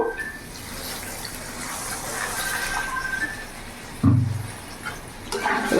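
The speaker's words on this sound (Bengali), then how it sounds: "এরই মধ্যে এবার আমি জল দিয়ে দেবো।" Water pours steadily into a pan of cooked-down spice paste for a rohu fish curry, a continuous close splashing gush that swells louder near the end.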